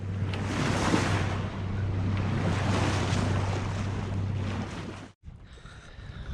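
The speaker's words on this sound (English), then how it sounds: "There's a lot of water going through here." Strong tidal current rushing past a sailing boat in a sound with a 5 to 7 knot tide, a loud continuous wash of water and wind noise with a steady low engine hum, then an abrupt cut to a quieter scene.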